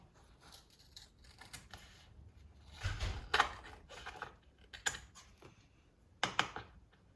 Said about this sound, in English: I'm going to have to try and cut it with a pair of scissors.